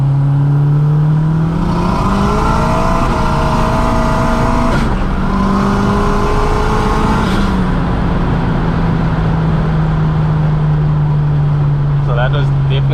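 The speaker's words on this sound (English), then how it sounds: "That was definitely wheel spin." A tuned 16-valve turbo Mk2 GTS race car spins its wheels while accelerating in boost, the engine note climbing and dropping as the revs wander, loud and close from inside the cabin throughout.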